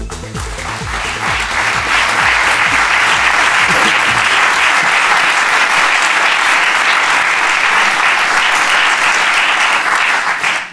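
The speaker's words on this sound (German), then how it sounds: "Fetter Applaus für eine Runde," Dense, loud applause from a TV talk-show studio audience, steady and sustained for about ten seconds before cutting off at the end.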